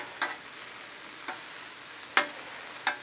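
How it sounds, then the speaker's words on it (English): Peppers and onions sizzle softly on a flat cooktop under a steady hiss, broken by four sharp clacks and scrapes as tongs toss them. "I'm going to take my tongs and just go ahead and give these guys a little mix so we can get even color on all sides"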